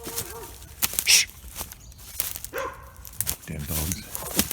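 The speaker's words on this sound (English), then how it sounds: "Damn dogs." Dogs bark at intervals among outdoor noise, with birds calling and people talking nearby, the barks mid-distance and mixed with shuffling footsteps.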